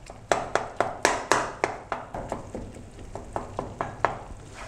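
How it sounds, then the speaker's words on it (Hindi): A spoon scrapes and knocks rhythmically against a pan while tomatoes are stirred into Pakistani-style beef karahi, a quick series of close, crisp taps and clacks with faint sizzling underneath. "अब हम इसमें टमाटर को अच्छे से मिक्स कर लेंगे"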